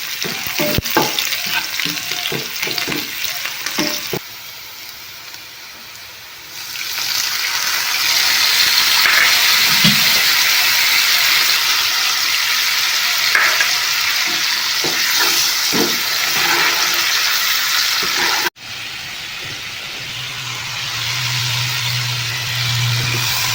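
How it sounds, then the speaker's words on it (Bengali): Whole spices and bay leaves fry in hot oil in a pan, a loud continuous sizzle with stirring scrapes and clatter, briefly quieter early on and then swelling to a strong, steady crackle. "তো এখন একটু লাল লাল করে ভাজা করে নিচ্ছি"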